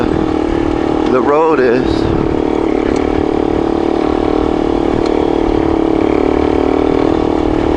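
A vehicle engine drones steadily and loudly while climbing a rough, rutted road in second or third gear, with a brief rattling whine early on and someone speaking over it.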